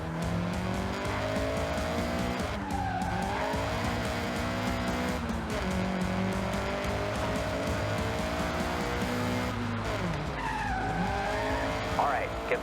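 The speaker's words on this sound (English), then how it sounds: "All right, get the CRX up to speed." A Honda CRX in the Forza Horizon racing game accelerates hard, its engine note rising and falling through gear changes, with tyre squeal near the end and voices talking over it.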